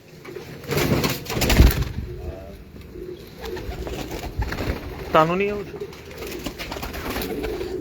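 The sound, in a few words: pigeons cooing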